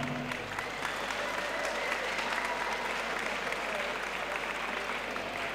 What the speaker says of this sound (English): Ladies and gentlemen, round of applause for both our fighters this evening.